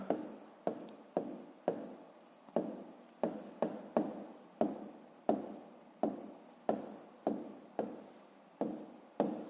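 A pen or chalk writes out a math solution in short repeated strokes, each one a sharp scratchy onset that fades quickly. The strokes come steadily, about two per second, close and fairly quiet.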